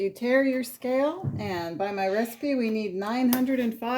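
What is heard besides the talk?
No everyday noise stands out behind the speech.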